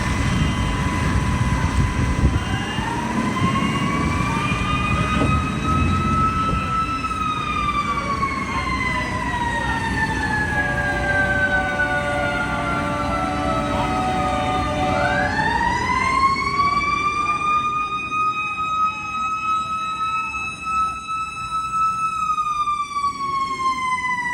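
A loud fire ladder truck siren wails continuously, its pitch rising and falling and dropping as the vehicle passes by, over heavy traffic rumble.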